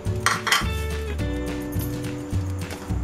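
Moong sprouts tipped into a metal bowl for a chaat with lemon juice and olive oil, giving a few clattering, clinking knocks of utensil against dish over a low background hum, with no talking.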